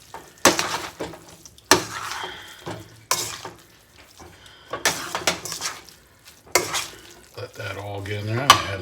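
Chopped parsley stirred into cauliflower dirty rice in a pan, giving repeated bursts of scraping and shuffling as the spoon moves through the rice, with short pauses between strokes and a faint sizzle near the end.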